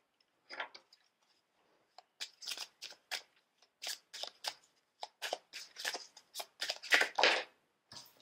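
Tarot cards shuffled and drawn by hand, a run of crisp riffling flicks and snaps in uneven bursts, close and fairly quiet with short pauses between.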